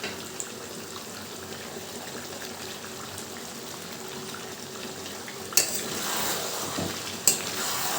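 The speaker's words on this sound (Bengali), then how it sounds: "একটু নাড়াচাড়া করে নেব" Chicken kosha with fried potatoes and chui jhal is stirred in a pot: faint, steady scraping and soft bubbling, with two sharper clinks of the spoon near the end.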